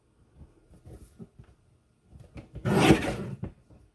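A paper trimmer blade slices through a stack of card artwork, a short scraping rasp following a few soft taps and handling sounds.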